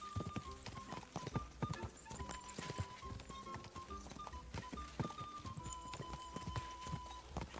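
Horses gallop in the video game Kingdom Come Deliverance II, rapid hoofbeats clattering in an uneven, overlapping rhythm from more than one mount, with occasional snorts over a music bed at moderate loudness.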